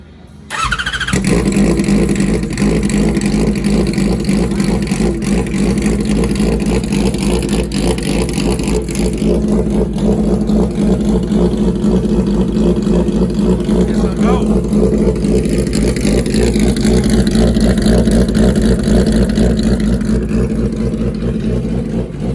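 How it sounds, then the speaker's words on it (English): A nitrous-fed, roughly 500 hp Hayabusa motorcycle engine fires up after a brief start and runs loud and steady, holding a rough, rumbling idle with a few swells in revs throughout. "let's see if this old Hayabusa will run."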